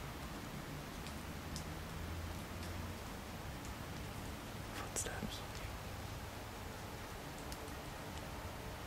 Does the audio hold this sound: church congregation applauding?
no